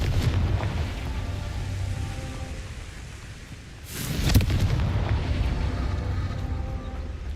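A Confringo fire blast from the game Hogwarts Legacy bursts in with a sudden booming explosion after a rumbling lull, followed by a dense crackling roar that fades slowly. No one speaks.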